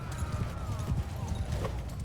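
Horse hooves clip-clop in a steady, rapid rhythm in the Mount & Blade II Bannerlord video game, continuous and close, with faint voices mixed into the battlefield background.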